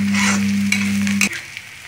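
Green capsicum is stir-fried in a pan for homemade spring rolls, cooked just until soft, with a loud continuous sizzle and scraping stir strokes alongside a steady low hum that cuts off partway through.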